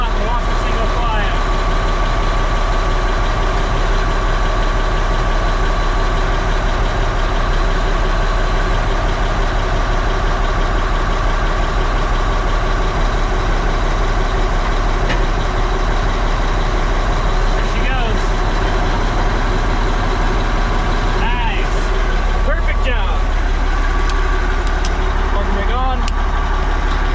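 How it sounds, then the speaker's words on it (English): A Caterpillar D10T dozer on newly installed tracks rolls forward in first gear, its heavy diesel engine droning loud and steady close by, with clanks and a lower, shifting rumble toward the end. "put this in drive, one forward, and we're just gonna let out and watch this thing go flying"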